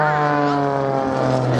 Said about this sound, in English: 6-cylinder Lycoming engine for you engine buffs out there